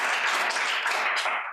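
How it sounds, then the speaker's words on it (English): Audience applause at a poetry recitation competition: a dense, steady wash of clapping from a crowd, sustained throughout and fading slightly at the end. "How about a big round of applause for all of your competitors and our runners-up?"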